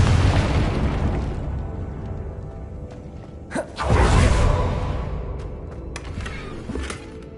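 A Confringo fire spell blasts in Hogwarts Legacy: a sharp crack is followed by a heavy, rolling boom that slowly fades over a steady game ambience, with a few lighter pops afterward.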